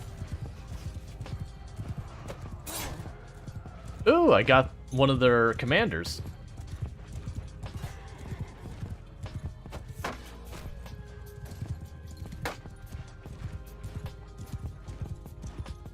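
Horses in a Mount & Blade II: Bannerlord battle, with steady hoof clip-clop running throughout, a couple of loud whinnies in the middle, and a player's voice talking over the game sounds.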